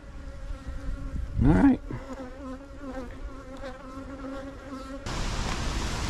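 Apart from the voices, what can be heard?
agitated honey bees buzzing at the hive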